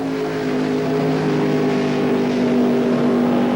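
Ray Beadle's Blue Max funny car makes a single drag racing run at the 1977 NHRA Gatornationals, its engine holding a loud, steady droning roar that swells slightly as it goes.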